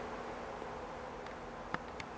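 A steady, low buzzing of leafcutter bees in the background, with a couple of faint clicks, fairly quiet and without talking.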